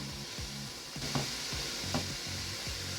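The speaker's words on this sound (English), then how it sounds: "So in go the onions, give that a little stir." Chopped onions sizzle in a hot pan while a spoon stirs them in steady scraping strokes, a close frying hiss running throughout with no one talking.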